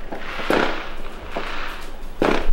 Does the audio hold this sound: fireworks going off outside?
yes